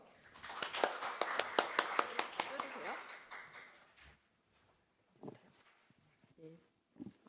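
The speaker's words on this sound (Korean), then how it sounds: "큰 박수로 환영 부탁드립니다" Symposium audience applauding to welcome a speaker, a short burst of crisp clapping for about three seconds that fades out, followed by quiet room sounds and brief speech.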